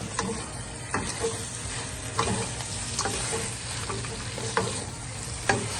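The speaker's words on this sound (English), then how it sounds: "And I will add the bean sprout at this time as well. And now it's just a matter of stirring it." Oysters and bean sprouts stir-fried in a hot pan for au-suan, with a steady close sizzle and regular scraping and clinking stirs roughly every second, no talking.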